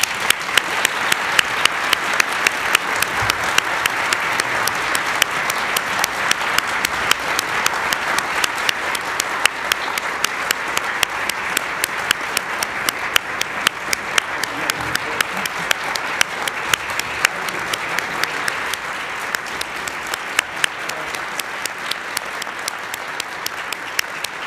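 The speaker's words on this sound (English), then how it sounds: "Please join me in a round of applause." Audience applause at a signing ceremony for a memorandum of understanding with the Smithsonian: steady, dense clapping from a sizable crowd that holds for about twenty-five seconds without fading.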